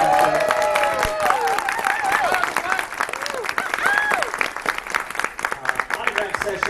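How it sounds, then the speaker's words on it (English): Audience at a guest of honor panel at a convention claps and cheers in sustained applause, dense and loud throughout with whoops and voices rising over the clapping. "Give one more big round of applause."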